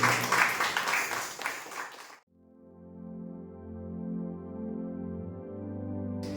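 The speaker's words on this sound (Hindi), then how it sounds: "आइए एक जोरदार ताली केवल प्रभु यीशु मसीह के नाम में।" Church congregation at a Hindi Sunday service claps for about two seconds, the loud applause fading into a sustained organ-like musical tone.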